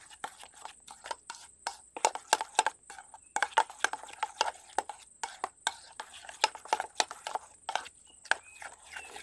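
A chicken tandoori marinade is mixed with ginger garlic paste in a bowl, giving a busy run of sharp wet clicks and taps from a utensil against the bowl, close and fairly quiet.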